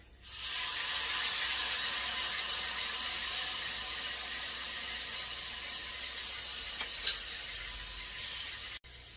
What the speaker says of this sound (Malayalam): നമുക്ക് പുളിവെള്ളം ഒഴിച്ചു കൊടുക്കാം